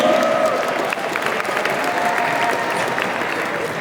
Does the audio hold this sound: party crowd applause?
yes